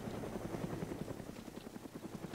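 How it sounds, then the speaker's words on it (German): A transport helicopter in the video game DayZ flies nearby, its rotor thumping in a steady, rapid pulse under a low engine drone throughout. "Das ist der Transportheli, wo ich gesagt habe."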